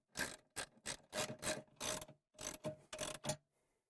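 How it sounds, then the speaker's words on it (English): Socket ratchet with a 1/2-inch drive tightening nuts on a hose reel spool, heard as about nine close, loud bursts of rapid pawl clicking in quick succession, each lasting a fraction of a second, then quiet. "we can tighten them up with our 1/2-inch socket and ratchet"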